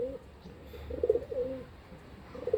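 Breeding pigeons coo in a loft setup, a couple of low throaty coos swelling and fading nearby over faint background noise.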